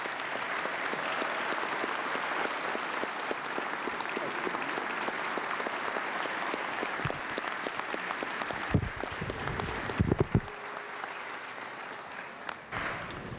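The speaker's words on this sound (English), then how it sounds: "would the House please give her a round of applause?" Applause fills a legislative House chamber, a broad sustained clapping from many members that continues for over ten seconds, then thins toward the end with a few knocks and scattered claps.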